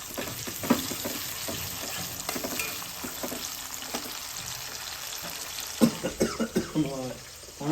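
Green chillies sizzle and spatter in hot oil while a utensil clatters and stirs intermittently; a voice speaks briefly near the end.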